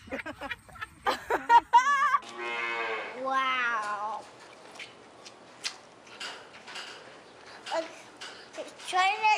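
A cow moos in drawn-out calls, fairly close and clear, between stretches of people chatting and laughing nearby.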